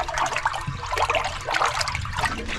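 Water rushes and gurgles as it drains away down a freshly unclogged main sewer line, a steady turbulent flow with trickling splashes, close and continuous without speech.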